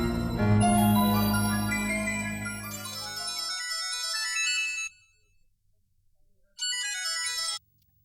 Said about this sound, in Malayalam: ഇരിക്ക്, ഞാൻ ജാനറ്റിനെ വിളിക്കാം